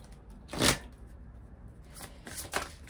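Oracle cards are shuffled by hand, with two or three quick riffling bursts close by amid near silence.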